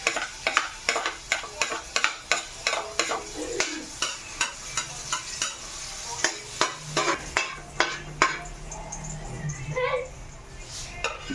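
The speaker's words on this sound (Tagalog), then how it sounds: "Lagay po natin yung bawang." Garlic sizzles in a pan as the base for a Filipino bitter gourd (ampalaya) stir-fry, with steady frying hiss under regular rhythmic scraping and stirring strokes from a utensil; a voice talks briefly over it.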